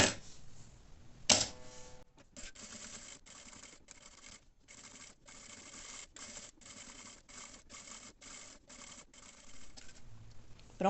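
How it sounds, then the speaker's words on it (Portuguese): A sewing machine stitching around a fabric double pliers holder, running in a fast, steady mechanical rattle of stitches with brief pauses and starts, close and fairly quiet, with no talking. "O próximo passo, vou passar uma costura aqui em toda a volta."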